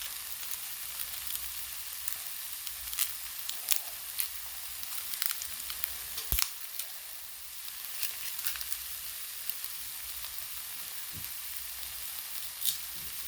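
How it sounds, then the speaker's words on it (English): Quiet, steady sizzle of baked tofu searing with spices in a pan, with occasional sharp pops and crackles over a constant frying hiss. "I'm just searing it on the pan with some spices"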